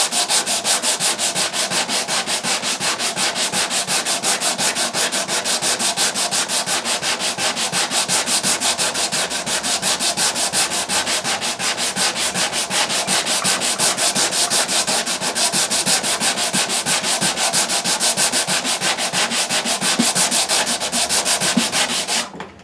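Continuous rhythmic rasping of sandpaper rubbed back and forth by hand over the wooden neck of a Martin D-16 guitar, close and steady for the whole stretch, with no voices.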